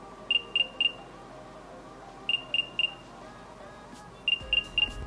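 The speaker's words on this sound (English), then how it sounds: "Launch the Find My iPhone app, select the AirPods, and play sound." AirPods emit a locator chime: three rapid high-pitched beeps repeated in three evenly spaced groups, clear and moderately loud over a faint background.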